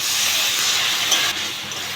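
Water poured into spice paste frying in a pan for a Bengali katla fish curry gives a loud, steady hiss of steam and sizzle for a couple of seconds.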